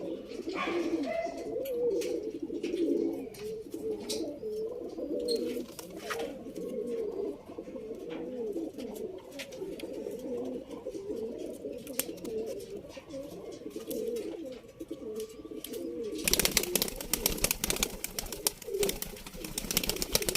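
Pigeons cooing continuously in a loft in Bangalore, overlapping low throaty coos close by, with occasional clicks and rustles, and a louder bustle of movement near the end.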